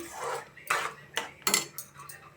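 A spoon stirs milk into rice kheer in a metal pot, making about five distinct scraping and clinking strokes in an uneven rhythm, close and fairly quiet.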